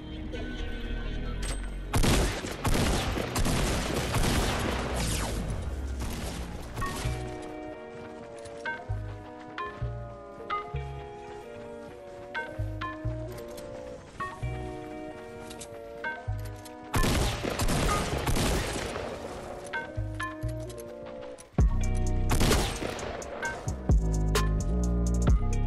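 Gunfire in the video game Fortnite: repeated bursts of rapid shots and single cracks, loud and close, scattered across a busy game soundscape with brief quieter gaps.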